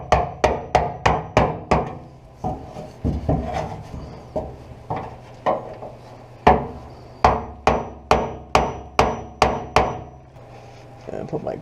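Repeated sharp taps knock a fuel sending unit for a 1973 Ford LTD clockwise into place, a steady series of crisp metallic-wooden knocks in bursts with brief pauses, close and clear.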